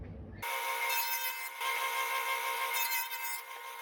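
Power saw fitted with a 3/4 inch dado blade cutting grooves across a wood panel, a steady loud whining cut running almost continuously with brief dips between passes, no talking.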